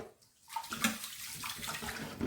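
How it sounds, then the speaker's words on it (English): Hot tap water runs onto rice in a pan, a close, hissing splash that swells after a short silent start. "I've now got hot water coming through,"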